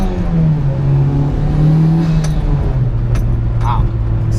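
Mitsubishi Evo 8 accelerating under turbo boost with a GrimmSpeed manual boost controller, a loud steady engine drone rising in pitch, heard from inside the car.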